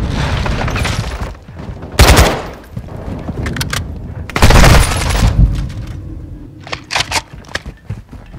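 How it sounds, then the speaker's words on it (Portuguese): A concussion grenade goes off in Call of Duty: Modern Warfare II among loud in-game combat. There are two heavy booming blasts a couple of seconds apart, with bursts of gunfire and sharp cracks scattered around them. "Mandando granada de concussão!"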